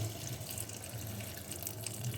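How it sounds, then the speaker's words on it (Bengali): Water runs steadily into a pan of fried potato curry, a continuous even rush of pouring at close range with no talk. "আলুটাও কষানো হয়ে গেছে এবার আমি এতে দিয়ে দিচ্ছি পরিমাণ মতো জল"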